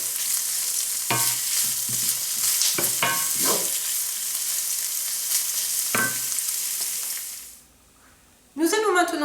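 Onions and tofu sizzle steadily in a pan for a vegan quiche lorraine, with a few sharp scrapes as the pan is stirred. The frying noise drops away near the end, then a voice briefly speaks.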